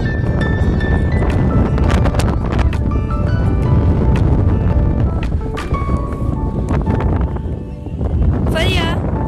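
Strong wind buffets the microphone on a mountainside, a loud continuous roar with gusts throughout, under scattered voices and other outdoor noise.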